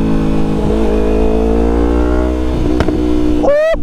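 A 2019 Yamaha R3 motorcycle fitted with an M4 carbon fiber full exhaust, baffle removed, idles loudly and close with a steady low drone, then blips the throttle briefly into a rising rev near the end.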